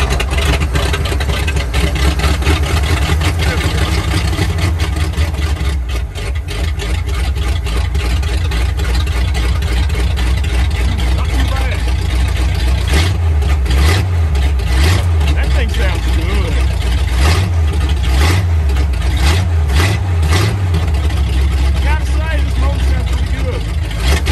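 A 1950 Ford flatbed truck with a flathead V8, revived after sitting 40 years, runs steadily at idle with a loud, continuous low rumble and a few throttle blips late on, close to the microphone.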